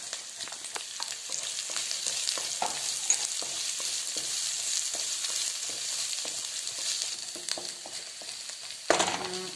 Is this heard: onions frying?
yes